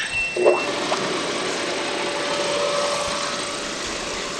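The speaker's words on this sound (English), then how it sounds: "I can turn the pump on and help it out" Pool pump motor running steadily while the pool drains at end of season, a continuous mechanical hum and whir with a faint high whine, close and even throughout.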